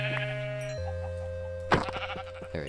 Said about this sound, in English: Ooh, there's sheep.